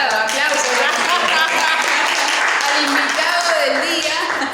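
An audience claps for a guest on a talk show, a dense, steady round of applause sustained at a fairly loud level throughout, with a voice speaking faintly beneath it.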